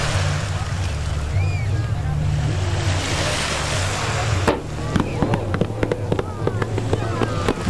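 Surf from a large wave raised by a vessel at a Navy Day harbour parade in Petropavlovsk-Kamchatsky washes loudly under wind noise, then breaks into splashes and sharp crackling bursts in the second half.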